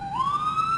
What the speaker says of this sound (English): let these sirens pass by outside the DeKalb County Courthouse